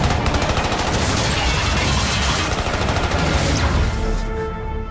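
Rapid gunfire in a Flash TV show scene, a dense, loud burst of shots that rattles on for several seconds and then cuts off, leaving a ringing tail.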